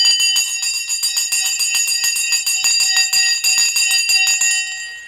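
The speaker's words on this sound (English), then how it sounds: "The bell is now gone." The stock market closing bell on a Friday rings loud and continuous, a rapid, evenly repeated metallic clanging with bright sustained overtones, heard alone without talk and cutting off just before the end.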